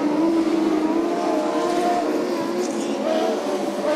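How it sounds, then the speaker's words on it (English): Midget race cars in a URA Limited Midgets event roar around the track, engines loud and continuous with rising and falling revs as they pass close by. "McNovich almost about to lap the 7 machine of Jeffrey Dyer"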